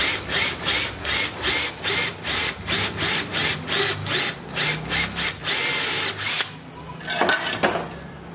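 A power drill whirs in short rhythmic bursts while mounting a motorcycle license plate, about a dozen pulses close by, followed by some scraping and handling noises.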